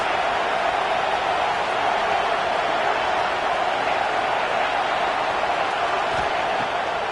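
Football stadium crowd at a college game, Florida State against Ole Miss, a dense continuous roar from a large distant mass of spectators, steady throughout with no single voices standing out.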